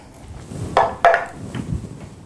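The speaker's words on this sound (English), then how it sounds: "Give that a few more good stirs." Pumpkin pie filling being stirred in a bowl, heard as a few close, brief scraping strokes against the bowl with quiet pauses between them.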